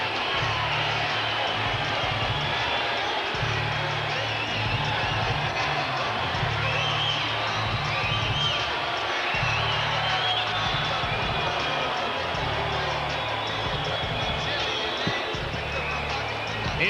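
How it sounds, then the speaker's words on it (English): A largely pro-Taylor boxing arena crowd roars steadily before the Bernard Hopkins versus Jermaine Taylor fight, a dense continuous wash of cheering and chatter that never drops away, with a commentator's voice running underneath. "It's a largely pro-Taylor crowd, as you can hear."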